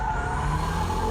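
A car skids briefly in a braking drift on a wet track, a short burst of tyre squeal over a steady engine drone.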